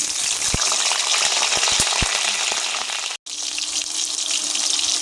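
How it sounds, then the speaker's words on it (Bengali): Onions hit hot soybean oil in a wok, hissing with a loud, steady sizzle and a few sharp crackles and spatters, with no voices over it. "কড়াই গরম হয়ে গেছে। এখন আমি পেঁয়াজ দিয়ে দেবো।"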